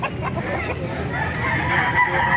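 A Golden Boy gamefowl rooster, about a year old, crows close by in a short, raspy call, with faint human voices in the background.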